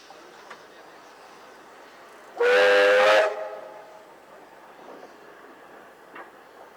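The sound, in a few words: steam locomotive leaving depot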